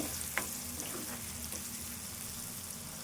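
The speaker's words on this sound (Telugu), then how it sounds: "ఉల్లిపాయ వేగాలి" Onions frying in a pan for gongura chicken, giving a steady, fairly quiet sizzle with a few faint stirring clicks and no voices.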